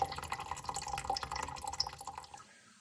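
Water draining out of an esky cooler, a close trickle with quick drips and splashes that runs steadily for about two seconds, then tapers off.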